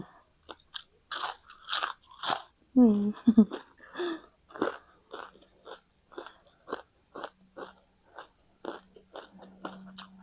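Crispy fried white fish is chewed with loud, close crunching bites in a steady rhythm. A person murmurs and hums between mouthfuls, and the chewing goes on under these small sounds.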